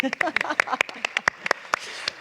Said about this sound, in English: I think we should give her applause.